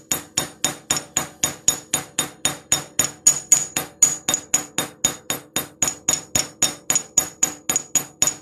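A ball peen hammer strikes a wire chainmaille hook on a hard surface, about thirty sharp metallic taps at a brisk, even rhythm, close and loud, with no talking.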